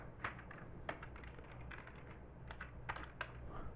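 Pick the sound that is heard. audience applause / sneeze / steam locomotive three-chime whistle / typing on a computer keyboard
typing on a computer keyboard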